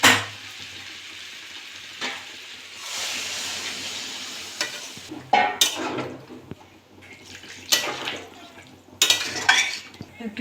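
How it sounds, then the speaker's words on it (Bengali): Water goes into a pan of jackfruit and potato curry, bringing a surge of hiss, followed by sharp clatters and scrapes of stirring against the pot, with no talking. "আমি এবার জল দিয়ে দেবো।"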